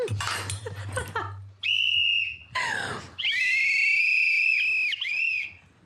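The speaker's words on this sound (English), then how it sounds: "Where's my whistle? Whistle." A shrill whistle is blown in several sharp, sustained blasts, loud and close, with brief breathy noises between them.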